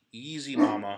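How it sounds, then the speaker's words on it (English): A dog barks once in a short, close, tonal yelp, with a person speaking softly right over it. "That's the dog."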